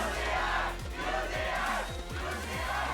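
Large arena crowd at an esports tournament final, a 1v1 League of Legends showdown, roaring and cheering continuously, loud and sustained throughout with no speech over it.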